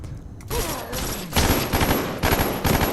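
Rapid automatic gunfire in a tactical shooter video game, with loud close bursts coming in several waves separated by brief gaps, dense and sustained.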